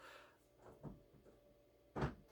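A child fumbles with a door indoors, giving faint soft knocks and rattles and then a sharper thump of the door near the end, all quiet and close.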